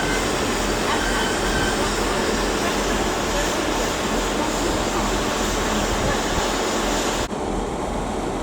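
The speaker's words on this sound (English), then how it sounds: "there goes 802218 with the 1330 Transpennine Express service to Liverpool Line Street" TransPennine Express unit 802218 pulling out of Leeds station with a steady rumbling train noise and broad hiss throughout, loud and close, cutting off abruptly near the end.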